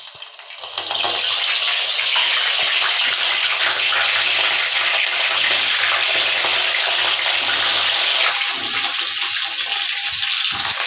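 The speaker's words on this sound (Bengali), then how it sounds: "ফুলকপিগুলো ভাজা হয়ে গেছে" Washed cauliflower florets fry in hot mustard oil in a pan, giving a loud, steady sizzle that starts abruptly and continues unbroken, with a slight shift near the end as the pieces are stirred.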